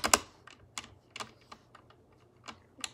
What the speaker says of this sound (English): the only one that's rattling hard is the spacebar